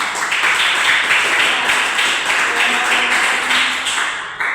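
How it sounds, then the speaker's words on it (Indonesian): Applause from students in a university classroom, a continuous wash of clapping with a faint pulsing rhythm, fairly loud, cutting off abruptly just before the end. "Oh, tepuk tangan."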